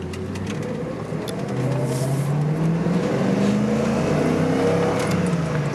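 A 1994 Jeep Grand Cherokee Limited with a 5.2 liter engine accelerates from inside the cabin. The steady engine drone climbs in pitch over several seconds and is heard alone, with no talking.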